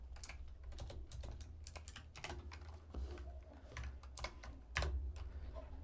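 Rapid, irregular clicking from a loud computer keyboard being typed on up close, with bursts of keystrokes and brief pauses and no talking.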